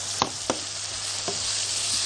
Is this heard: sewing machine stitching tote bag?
no